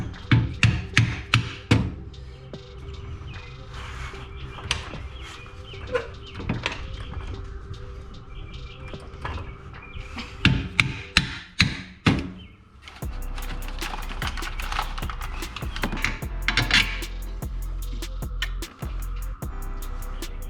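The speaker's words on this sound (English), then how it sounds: "don't be afraid to bring the persuader to the party if you need to. So you can pop bolts out like that." Bolts hammered out of the suspension of a 2019 Audi RS3 during a KW height-adjustable spring install, a series of sharp metallic strikes in uneven bursts, then a denser run of rapid blows, close and loud.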